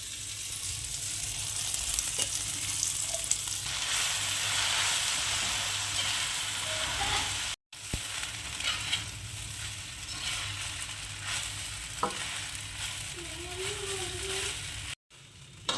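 Washed puffed rice sizzling in a pan with fried onions, tomatoes and turmeric for Rayalaseema-style uggani, a steady close frying hiss with light stirring scrapes throughout, no talk.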